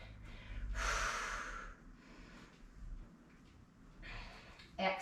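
Heavy breathing during a full-body strength workout, with sharp forceful exhales and inhales and a faint voice underneath between breaths.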